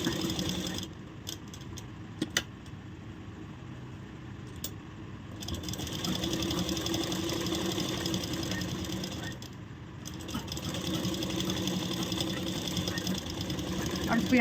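Sewing machine running a line of stitching on an off-shoulder blouse, a faint steady mechanical whir with a brief pause and a few light clicks, alone without talk.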